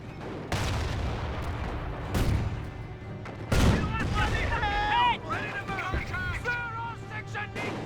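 A StuG assault gun fires on Commandos in a Company of Heroes battle, with heavy booming blasts amid scattered gunfire and chirping game tones, while a voice talks over parts of it.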